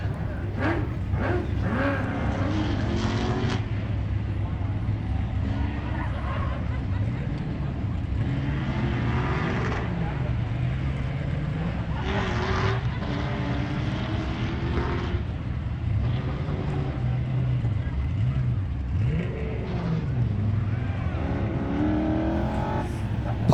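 A Corvette accelerates hard up a hill-climb course, its engine roaring steadily at a distance with rising and falling revs, while an announcer talks over it.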